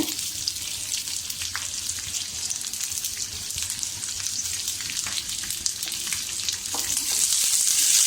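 Ginger and garlic sizzle in a pan for a village chicken curry. A steady, close crackle of frying runs throughout with occasional stirring clicks and grows slightly louder near the end.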